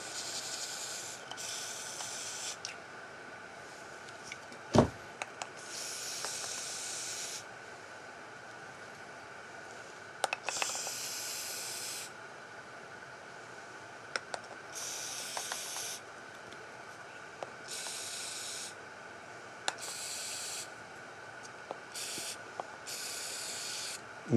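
Repeated bursts of lacquer from a spray can, each a loud, close hiss of a second or two separated by short pauses, over the steady hum of an air filter while a Peavey Rage 158 practice guitar amp is refurbished.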